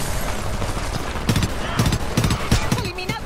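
Gunfire in the war video game Homefront, with rapid bursts of automatic shots and sharp cracks repeating close and loud over a busy battle background, while a voice talks at moments.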